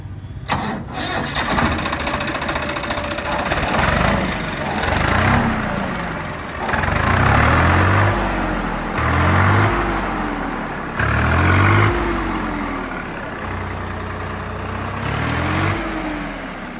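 A Swaraj 855 tractor engine cranks and fires up, then runs with a rhythmic, pulsing diesel chug that swells and eases in repeated cycles, close and loud throughout.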